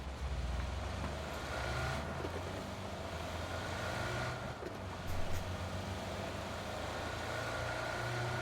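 A buggy engine driving in PUBG, a faint, steady motor drone with a low rumble that holds throughout, with a brief bump in level midway and no talk.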